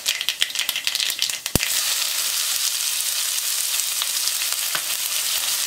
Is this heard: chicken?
no